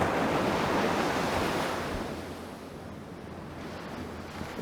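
Ocean surf washes up a beach in a steady broad rush, loud at first and then easing off, with some wind buffeting the microphone.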